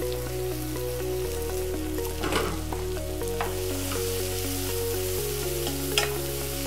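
Leeks and onions sautéing in a pan as the base for courgette soup, giving a dense, even sizzle with occasional stirring scrapes and soft crackles, close and steady throughout, no talking.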